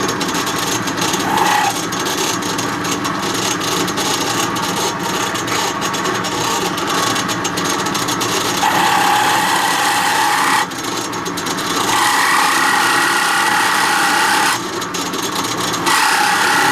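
A power drill with a 9.2mm bit bores steadily into a Daiwa 7HT fishing reel during a custom magnet installation, a loud continuous whine and grind with brief shifts in pitch as pressure changes.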